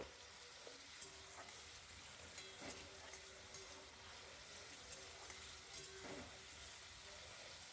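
Carrots, beans and peas frying in a pan, a faint, steady sizzle with occasional soft stirring clicks, heard alone without talk.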